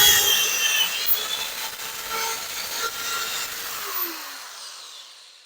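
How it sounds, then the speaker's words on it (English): Small holes being drilled between the rivets of a prop power cell, a steady grinding, scraping bore at close range that continues without pause and fades slightly toward the end. "Okay, I've got all 4 of those holes drilled now."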